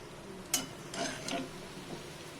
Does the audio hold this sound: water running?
no